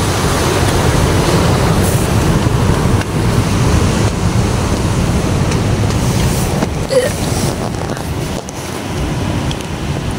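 Heavy ocean surf at a beach campsite roars steadily and loudly, a continuous rush of breaking waves mixed with strong wind buffeting the microphone.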